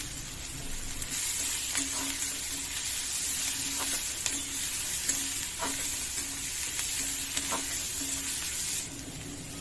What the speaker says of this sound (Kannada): ಫ್ರೈ ಮಾಡ್ತೀವಿ ಸ್ವಲ್ಪ ಉಪ್ಪು ಹಾಕೊಂಡ್ಬಿಡ್ತೀನಿ ಬೇಗ ಫ್ರೈ ಆಗಿಬಿಡುತ್ತೆ